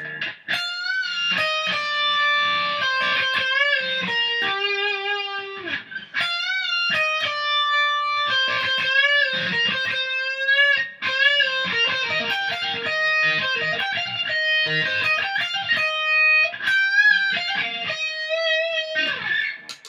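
A sustained, heavily distorted electric guitar solo plays loud and continuous over a full band, with bent and held notes throughout.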